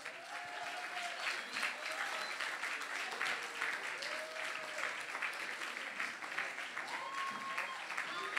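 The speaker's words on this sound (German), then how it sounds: "Kräftigen Applaus." Enthusiastic audience applause at the Miss Kärnten beauty pageant final as the top five are presented: sustained crowd clapping at moderate distance, with scattered cheers and voices mixed in throughout.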